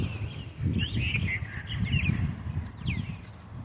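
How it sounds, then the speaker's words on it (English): Birds chirp and sing softly in the background over a low, rumbling ambient noise, with short high-pitched calls scattered throughout. "I don't even want to talk over the birds."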